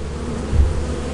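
Buzzing beehive in Lethal Company, a steady dense insect drone that is loud and close, heard alone with no talk for about a second.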